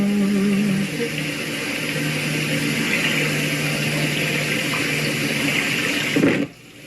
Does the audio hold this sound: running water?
yes